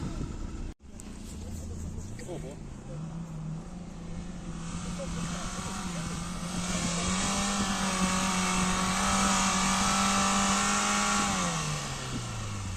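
Off-road car driving through snow, a steady engine drone rising in pitch as it accelerates away, loud and continuous with a brief dropout near the start.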